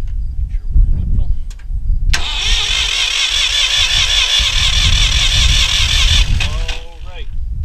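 A Ford 3000 tractor engine cranks over briefly and then fires, settling into a loud, steady running roar that fills most of the clip before cutting back near the end, with some voices in the background.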